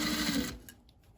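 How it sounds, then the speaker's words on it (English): A sewing machine stitching a fabric bag close to a folded edge, a short burst of fast mechanical whirring that stops abruptly partway through, leaving quiet room tone. "stitch close to the folded edge"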